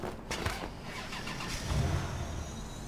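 A car engine in the video game Watch Dogs 2 cranks and turns over, then settles into a low rumbling idle, with no voices.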